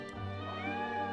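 A cat in the video game Triangle Strategy gives a single short meow, clear and alone over a soft, sustained musical backdrop.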